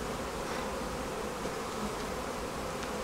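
A dense, steady drone of many honeybees fills the air during an open hive inspection of a Demaree swarm-control split, close and continuous without pause.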